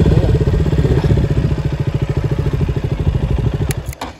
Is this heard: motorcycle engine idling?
yes